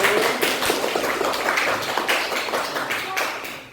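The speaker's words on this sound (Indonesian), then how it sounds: "tepuk tangan untuk kelompok 1" Classroom applause for a student group after their presentation, a dense spatter of many hands clapping at once, fairly close and steady, fading toward the end.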